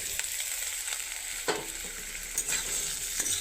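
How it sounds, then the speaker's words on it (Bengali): Potatoes frying in a pan, a steady close sizzle with occasional scraping stirs and soft clicks, no talking. "আলু এখন তো ভাজ হয়ে গেছে"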